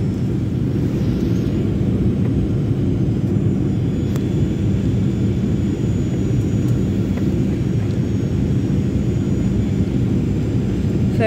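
Steady loud engine drone fills an airplane cabin during a bumpy landing, a constant low roar with faint higher whines, no talking.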